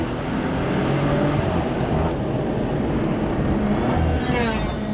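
Stage 2 BMW 135i with about 440 hp driving along, its engine giving a steady, loud, close drone with road noise that holds evenly throughout.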